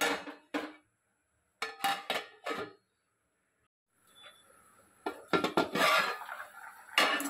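Peanuts going into a pot of groundnut curry before the lid goes on, sharp metallic clatters and knocks of pot and utensils in bursts with quiet gaps between, a louder run of clanks near the end, no talking.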